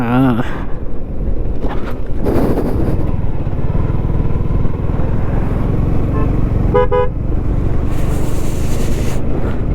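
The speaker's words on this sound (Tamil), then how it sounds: "இப்போ தாங்க வண்டி வருது" A motorbike rides the mountain road from Kodaikanal to Poombarai while another vehicle passes, with rushing engine and wind noise throughout, short horn toots around the middle and a brighter burst near the end; a voice talks over it.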